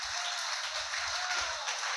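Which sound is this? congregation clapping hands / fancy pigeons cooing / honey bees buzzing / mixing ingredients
congregation clapping hands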